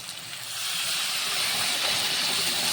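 Water poured into a hot pan of paneer curry, bursting into a loud, steady sizzling hiss that swells after the first half second and holds close up.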